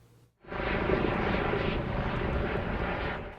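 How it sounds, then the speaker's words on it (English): A Northwest MedStar medical helicopter landing at a prepared emergency landing zone in Ephrata, its loud, steady rotor and engine roar rising abruptly and then holding close and constant. "Some people asked us why a helicopter landed in Ephrata earlier this week"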